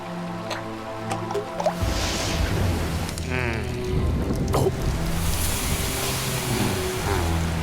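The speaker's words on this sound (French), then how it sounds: "Enfin la pluie" Rain falls in a dense, hissing spatter with wet drips and splashes, layered over a low musical drone that drops away and returns as the downpour continues steadily.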